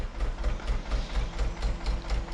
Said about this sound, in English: That's a Mondeo engine.